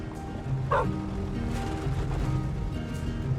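A dog in the video game The Red Lantern gives a single short bark over a quiet, tonal game soundscape with soft ambient music.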